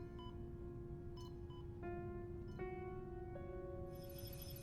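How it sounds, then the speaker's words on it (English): Steady electronic beeping from an experimental pod in a video game, a sustained tone with repeated higher bleeps stepping up in pitch, constant and close against a low humming background. "This beeping is pissing me off."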